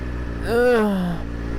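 A motorcycle on a short ride home in nice weather, the rider carrying a loaded backpack. A brief engine note rises and falls over steady wind and road rumble.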